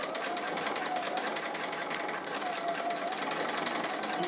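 Sewing machine stitching a tree applique on a quilt, a steady, fast mechanical chatter of the needle running continuously and fairly quietly close by.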